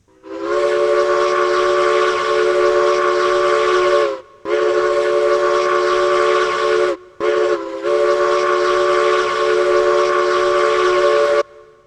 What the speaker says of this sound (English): let's just get a whistle test right now